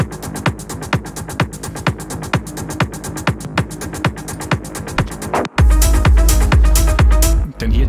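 Minimal techno track intro, a basic pad sound carrying steady evenly spaced kick-like pulses, then a heavier, louder full section swelling in near the end; no talking.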